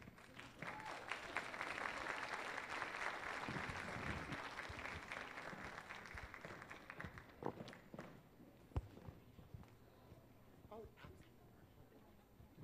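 A school audience at a kindergarten orientation gives the fourth-grade readers a round of applause. The clapping is sustained and fairly loud for several seconds, then thins out into footsteps and shuffling with some talk.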